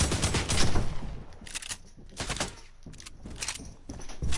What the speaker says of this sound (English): Say hello to the AK.